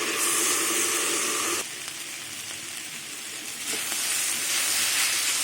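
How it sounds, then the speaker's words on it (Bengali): Loud, steady sizzling of flat beans, potatoes and onion greens frying in a pan, briefly dampening midway as if covered, then rising again; no voices. "এবার আমি ঢেকে ঢেকে ভাজবো"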